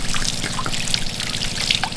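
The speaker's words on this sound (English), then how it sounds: "Washing the veggies in the bath." Tap water runs steadily into the bath aboard a narrowboat as vegetables are washed, a close, continuous trickle and splash with no talking.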